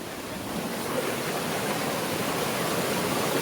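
A waterfall at Malangad in the monsoon gives a steady, dense roar of rushing water, constant and fairly loud with no breaks and no voices.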